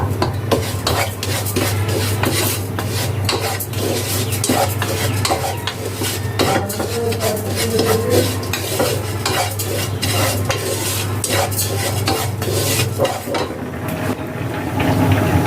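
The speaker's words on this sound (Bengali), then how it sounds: "আমি এখন চাল ডাল হালকা ভেজে নেব" Rice and lentils lightly frying in a pot are stirred constantly, a close, loud scraping of a spoon against metal over a soft steady sizzle, with clinks of utensil on cookware throughout.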